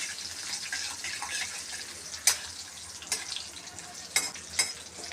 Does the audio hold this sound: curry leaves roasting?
yes